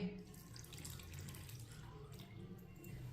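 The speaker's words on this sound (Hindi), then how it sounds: "1 प्याली पानी डाल लेंगे।" Water poured from a cup into cooled roasted semolina for suji halwa, a steady low splashing trickle running continuously and close by with no talk.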